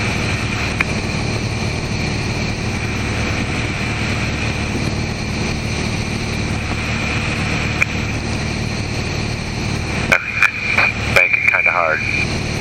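Light airplane engine droning steadily during a hard banking turn in a flight lesson, a constant loud hum with wind noise throughout and a brief burst of other sound near the end.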